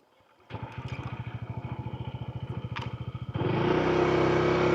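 A Honda ADV160 scooter idles with a steady pulsing putter, then the throttle opens and the engine rises into a smooth, louder drone as it rides off close by.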